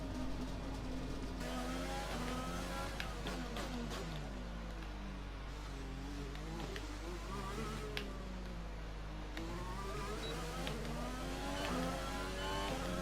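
Formula 1 race car engine in the F1 2020 game at Monaco, a high buzzing whine that rises and falls with the gear changes as the car drives a lap, steady and unbroken throughout.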